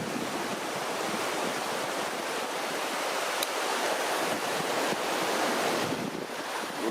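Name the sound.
mountain torrent flowing, Gave d'Estaubé, Hautes-Pyrénées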